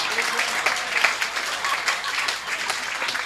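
Steady, fairly loud crowd applause fills a Hindi comedy poetry gathering, with many hands clapping continuously throughout and voices faintly mixed in.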